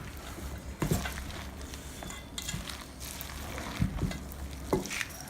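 Chicken liver loaf ingredients being mixed by hand in a bowl, giving soft, wet squelching and stirring sounds with a few louder slaps, close and moderately quiet with no talking.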